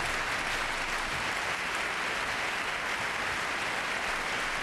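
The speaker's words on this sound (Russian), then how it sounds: "Эти аплодисменты зрителей можно расценивать как предварительную благодарность за проведенный матч" Spectators at a women's tennis match in Linz, 2006, applaud steadily as the match nears its end. The clapping is a dense, even wash from a large crowd and continues for the whole stretch without a voice over it.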